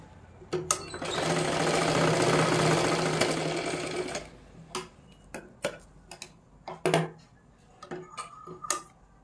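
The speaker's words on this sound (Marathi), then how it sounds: "त्याच्यावरती परत एक डबल शिलाई मारा" Sewing machine running steadily for about four seconds as it double-stitches a katori blouse, then falling into short clicks and taps as the fabric is adjusted, up close with no talk.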